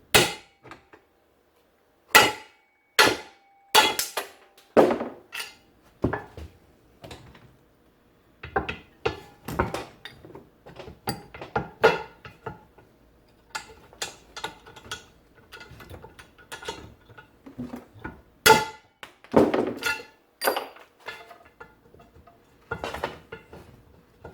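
A punch hammered against a U-joint yoke on a car drive shaft during U-joint replacement: sharp metallic strikes in irregular clusters, some loud and ringing, others lighter taps and rattles, close up with no talking.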